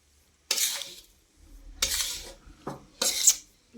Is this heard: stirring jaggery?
yes